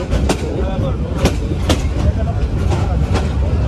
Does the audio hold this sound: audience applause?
no